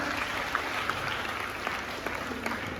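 A group in Kerala applauding together at an event, dense steady clapping close by that carries on through the whole moment without a break.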